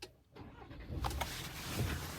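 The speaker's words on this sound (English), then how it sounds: "Start the engine" A truck engine starts in a driving-school inspection demo, a brief, quiet, distant starter crank that catches into a low engine rumble toward the end.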